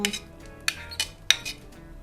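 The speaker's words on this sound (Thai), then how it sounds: "คลุกเคล้ากันอีกรอบทีเนี้ย" Utensils clink and scrape in a bowl while chopped herbs, chilies, shallots, spring onion, cilantro and garlic are tossed together, with a few sharp metallic taps over soft stirring, close and fairly quiet.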